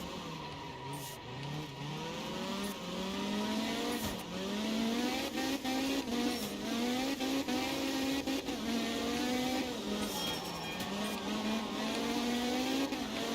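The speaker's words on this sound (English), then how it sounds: "A lot of tire screeching going on with this car." A GT4 race car in Assetto Corsa Competizione at the Red Bull Ring slides through corners. Its engine revs rise and fall steadily in a constant loud drone, and its tires squeal along with it.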